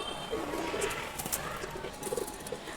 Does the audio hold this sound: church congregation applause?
no